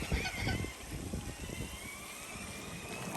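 Geese honking on a small farm kept with chickens and roosters, a few faint nasal honks early on over quiet outdoor background noise.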